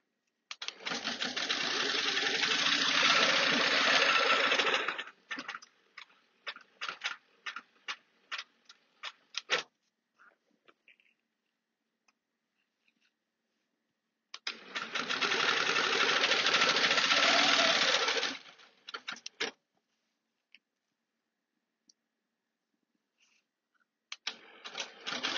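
Sewing machine micro-quilting lighter-colored fabric, running in two long steady bursts of rapid stitching with short start-stop pulses between, close and loud with no talking.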